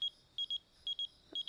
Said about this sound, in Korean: 그때 운호의 삐삐 메시지를 받게 되는데요.